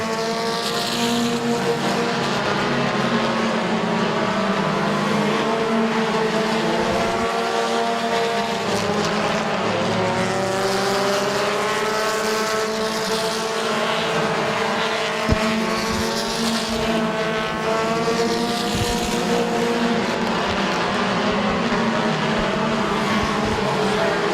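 Compact race cars at Midvale Speedway drone past in a close pack, engines whining and rising and falling in pitch as they circle, loud and continuous throughout.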